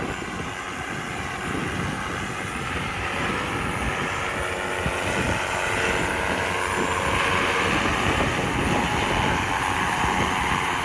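A small camera drone lands by itself outdoors, its propellers giving a steady, fairly loud buzzing whine that holds constant throughout with no talk.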